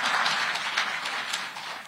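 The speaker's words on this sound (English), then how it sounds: "I thought you would clap." At a press briefing attended by President Ruto, a short round of audience clapping fills the room, a steady dense patter heard briefly from a moderate distance with no talking over it.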